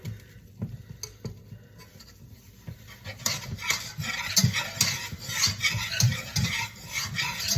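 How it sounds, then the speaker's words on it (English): A spoon scrapes and stirs flour into melted butter in a pot to start a roux for mac and cheese, quiet at first, then steady, close scraping and light sizzling with no talk. "we're gonna do a couple of tablespoons of flour just to get our roux going"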